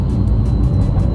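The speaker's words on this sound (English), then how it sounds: "The Sport exhaust, push." Porsche 911 with optional sport exhaust, engine running steadily with a deep, continuous low rumble, close and fairly loud, no talk over it.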